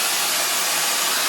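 A hair dryer blowing on natural grey hair, a loud, continuous close-up whoosh of air holding steady from start to finish with no talk.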